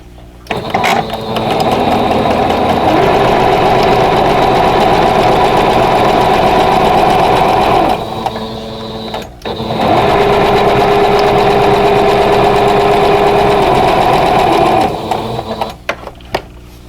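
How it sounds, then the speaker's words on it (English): Sewing machine stitching quilt block pieces at a 2.0 stitch length, a loud close steady mechanical whir in two long runs separated by a brief pause, with no talk. "I'm just going to sew right on the line"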